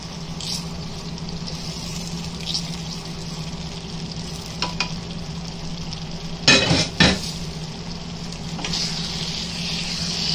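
A tadka tempering for matar aloo sabzi sizzles in a pan with a steady frying hiss, broken by a few sharp clatters of a spoon against the pan and a louder burst of sizzle near the end.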